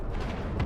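Large cannons fire in the space ship combat game Cosmoteer, a dull rumbling boom with a heavier thump at the end, brief and mid-distance.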